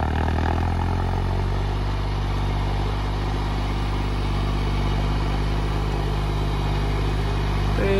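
Deutz-Fahr 70 hp 4x4 tractor pulling a disc and cultivator in a field, a steady loud diesel drone with a constant low rumble and faint clatter, no talk.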